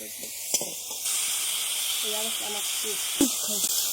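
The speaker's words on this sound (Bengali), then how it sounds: "এখন দুই তিন মিনিটের মতন নেড়ে চেড়ে ভেজে নেব" Chicken stew ingredients frying in oil in a pan on low heat, giving a steady soft hiss and sizzle throughout, with a few utensil clinks and a voice speaking briefly over it.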